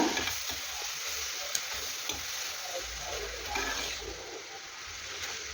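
Ponnankanni spinach curry with salt and turmeric being stirred in a pan, a steady sizzle with soft scraping strokes and faint wet splatter throughout, close and moderately loud with no talk.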